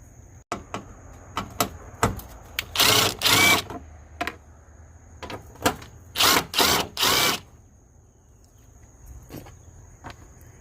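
Bursts of a tool working 10 mm bolts loose on a 2005 Toyota Sienna starter, several short whirring runs and two longer loud ones, separated by quiet gaps and small clicks, with no voices.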